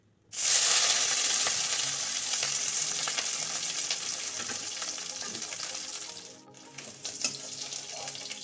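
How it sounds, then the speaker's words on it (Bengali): Capsicum sizzles and fries steadily in a hot pan, a dense continuous crackle close up, briefly dipping near the end before resuming with occasional stirring clatter. "এবার ভাজবো ক্যাপসিকাম"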